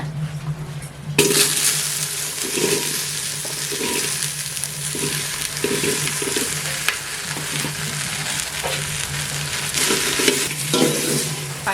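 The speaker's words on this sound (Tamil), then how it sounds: "கொஞ்சமாக இது எண்ணெய் சேர்த்து வெண்டைக்காய் வதக்கிடுங்க" Okra sautéing in a little oil in a pan, a close, steady sizzle with rhythmic scraping strokes of a spatula stirring the pieces throughout.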